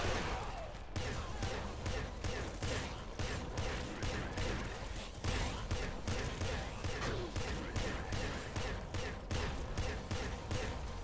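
Rapid, continuous bursts of video game gunfire from Nuclear Throne, dense and rhythmic shots firing in quick succession for the whole stretch, with a brief pause near the start.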